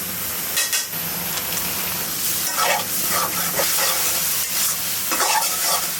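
Spices sautéing for a taro curry in a pan give a steady frying sizzle, broken by scraping stirs that come back again and again over the whole stretch.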